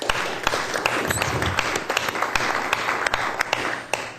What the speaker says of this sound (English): I'd like to give him a round of applause.